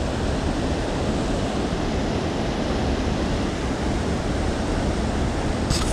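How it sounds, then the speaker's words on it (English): The Neosho River flowing at dusk gives a steady, loud broadband rush of moving water, constant throughout with no talk. "One final look at the Neosho River."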